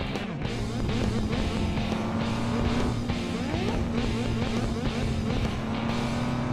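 Cars drive and smash through traffic in a Paw Patrol car video game set at a water park, with a steady, loud engine drone and faint clatter running continuously.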